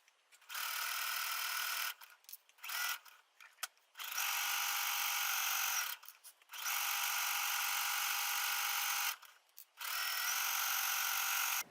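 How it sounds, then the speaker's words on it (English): A sewing machine runs a zigzag stitch along a seam edge in several bursts of steady mechanical whirring, each a second to three seconds long, separated by short pauses, close and fairly loud with no talking. "we're just going to sew a zigzag stitch all along the edge of the outside"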